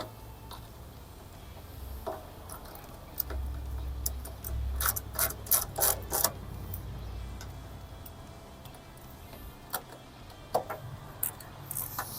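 A hand ratchet is tightening a bolt on a Toyota 4Runner power folding mirror, giving short bursts of quick, sharp clicks close by over a quiet background.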